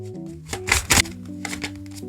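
Tarot cards shuffled by hand during a reading, a short soft riffle with quick papery flicks, close and quiet over a faint background hum.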